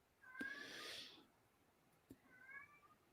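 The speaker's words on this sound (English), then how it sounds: "That's my freaking cat. I don't know what she's meowing about." A female house cat meows twice, the first call drawn out and louder, the second shorter after a pause, sounding a little distant in a quiet room.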